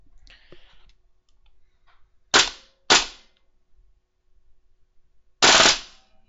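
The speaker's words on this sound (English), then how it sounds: "Sweet sound of full auto." Short bursts from a WE gas blowback airsoft rifle firing on full auto, with three sharp, loud clattering volleys separated by quiet pauses and a few faint clicks.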